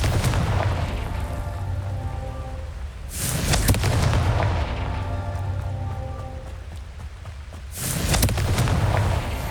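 Two Confringo blasting spells from Hogwarts Legacy erupt several seconds apart, each a loud burst followed by a long rumbling, crackling decay, layered over continuous game ambience and a faint musical drone.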